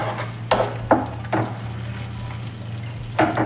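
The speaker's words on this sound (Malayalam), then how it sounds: "ഇതുപോലെ നന്നായിട്ട് ഇങ്ങനെ ഇളക്കി കൊടുക്കണം." Thick, mildly sour curd being stirred for a brinjal curry, several separate wet scraping strokes of a spoon against the pot over a low steady background hum.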